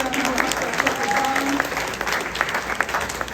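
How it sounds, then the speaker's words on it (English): A crowd at a community program on Sanibel applauds steadily for the event sponsors, dense continuous clapping that stays loud throughout, with a short tone sounding briefly partway through. "Big round of applause for all of them who helped us"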